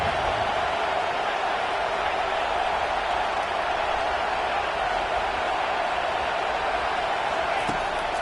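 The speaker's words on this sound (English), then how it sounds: "Listen to this crowd just shaking the girders of this place" A packed stadium crowd roars at a Notre Dame college football game, a steady, loud wall of cheering that holds without a break for the whole stretch.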